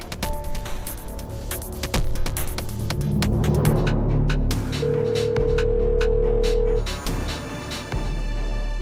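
A telephone is dialed and then rings: a series of short keypad tones and clicks, followed by a steady held tone and low electronic hum, fairly close and with no voices.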